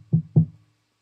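Two crisp knocks on a door land close together, sharp and close, followed by silence.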